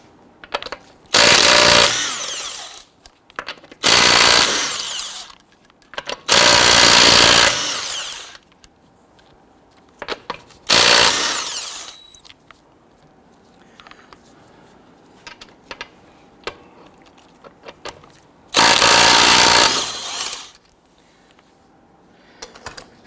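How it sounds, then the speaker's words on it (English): Impact-style power tool spinning loosening lug nuts on a 2006-2012 Toyota RAV4 wheel with a 21mm socket, heard as five loud, close bursts of whirring rattle, each a second or two long, separated by quiet pauses with faint handling noise. "Using a 21mm socket, we're going to loosen and remove the lug nuts."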